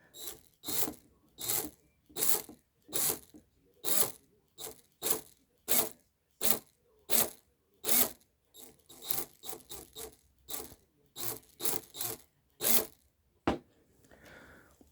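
A cordless drill with a faulty, rattling ratchet mechanism, heard up close as a long run of sharp, rasping bursts, each under a second, repeating at a fairly regular pace with brief silences between.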